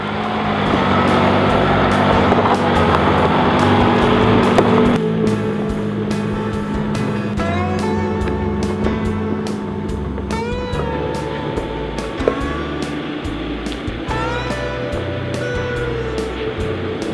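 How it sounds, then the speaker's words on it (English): A 2014 Nissan X-Trail rolls down a hill slope on hill descent control, its engine and drivetrain droning steadily and loudly close by, with rumbling road noise and intermittent clicks and rattles from the vehicle. "It's holding us running down this slope without any brake intervention at all."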